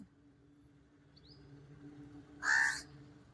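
One short, loud crow caw sounds overhead at an open-air flea market, over a quiet background hum.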